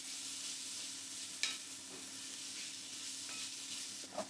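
Chopped onion, ginger and garlic sweating in a pan make a faint, even sizzle with a couple of soft utensil taps against the pan.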